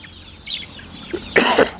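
Chickens on a goat farm give a few close, short clucks, the last burst louder and sharper, against a quiet background.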